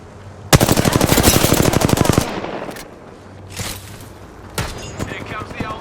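Automatic gunfire in the Apex Legends video game: a loud, rapid burst lasting under two seconds, then a few scattered single shots and game sound effects, with a voice calling out in between.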